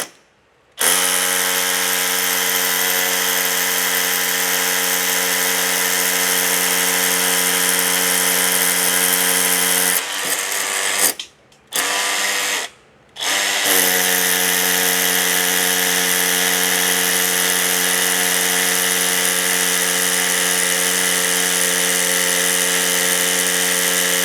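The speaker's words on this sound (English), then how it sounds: "Now we're going to drill a hole for our wire." A power drill whines continuously at a steady high pitch boring into concrete, stopping briefly twice before resuming its long, even grinding run.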